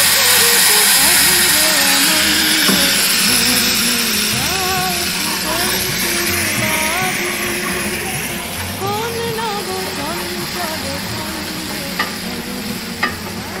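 Spice paste for dudh shukto sizzles loudly in hot oil, a dense continuous hiss and crackle with scraping stirring throughout, softening slightly over time and overlaid by occasional speech.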